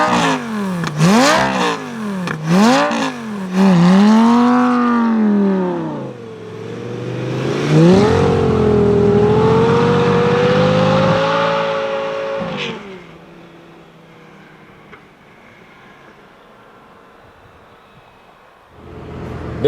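A Lamborghini driving in a snowstorm in Summit County, Utah, revs loudly in several rising and falling bursts, then accelerates with a long climbing engine whine that fades to a quieter cabin hum.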